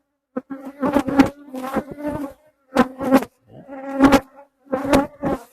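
Honey bees buzz loudly and close around an open hive during an October inspection, in repeated swelling bursts with brief gaps between them.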